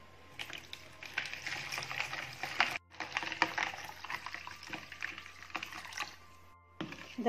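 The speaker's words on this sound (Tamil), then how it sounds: "இப்போ தண்ணி 2 கப்பு." Water poured into lemon juice with mint and ice cubes, a faint splashing and trickling that runs in uneven bursts with a brief pause partway through, quiet and close.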